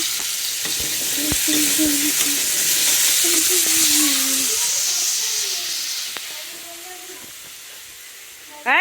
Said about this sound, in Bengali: এখন আলুগুলো একটু কষিয়ে নিচ্ছি